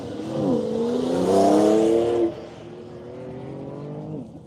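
A race car slides sideways on an air base course at a racing event, the engine screaming at high revs before dropping in pitch and fading to a farther, quieter drone.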